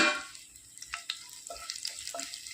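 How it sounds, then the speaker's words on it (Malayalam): Crushed dried chili hits hot oil in a pan, giving a soft crackling sizzle with small scattered pops and light stirring, quiet and close. "ഇപ്പം എണ്ണ ചൂടായി വരാൻ തുടങ്ങിയിട്ടുണ്ട് അതിലേക്ക് നമ്മൾ ഈ എടുത്തു വെച്ചിരിക്കുന്ന ചതമുളക് ചേർത്ത് കൊടുക്കുക"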